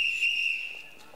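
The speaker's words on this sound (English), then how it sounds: "He blows his whistle." A uniformed boy blows a single sustained, shrill whistle note, loud and close, holding steady for about a second before fading.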